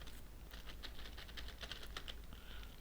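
Computer keyboard keys tapped while building an Excel attendance sheet, a quick run of close, quiet clicks in an irregular rhythm with no talking.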